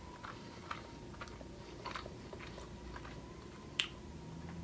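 Snickers candy bar of chocolate, caramel and peanuts being bitten and chewed, giving faint, soft crunches and moist mastication close up with a few sharper bites, no talking.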